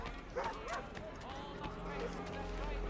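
A dog in the Assassin's Crown 3 Remastered video game yips and barks a few times in a bustling scene, with voices talking and hoof clatter in the background.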